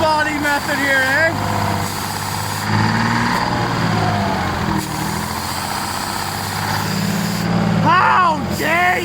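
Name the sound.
old big rig truck engine idling after cold start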